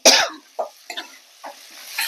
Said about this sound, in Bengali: লঙ্কা দেওয়ার জন্য কাশি আসছে